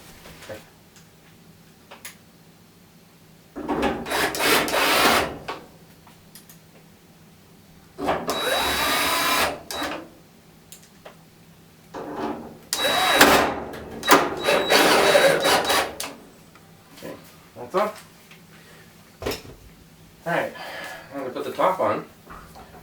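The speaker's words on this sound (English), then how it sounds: "we'll get those 3 screws in over there" A power driver sets screws into a Samsung DV5451AEW dryer in several whirring bursts of a few seconds each, separated by quieter gaps with clicks and handling noise, while someone talks throughout.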